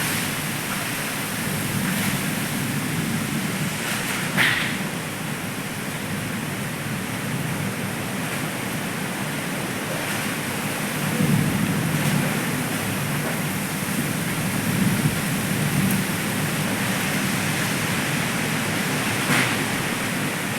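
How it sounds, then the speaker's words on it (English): Heavy rain and strong wind outdoors form a continuous broad rushing roar, steady and enveloping with faint gusting swells and occasional soft knocks, with no voices. "so windy outside"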